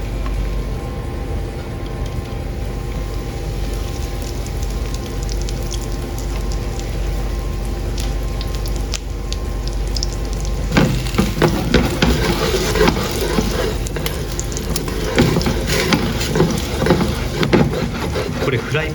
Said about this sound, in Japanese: ではカツレツ焼いていきます。